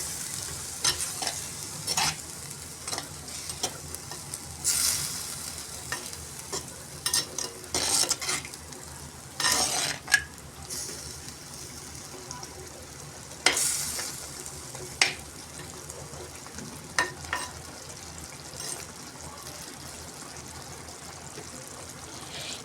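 A spoon works chicken, yogurt and salt together in a pot for chicken biryani, with repeated close scraping strokes and wet stirring over a soft, constant sizzle.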